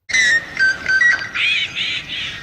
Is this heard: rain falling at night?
no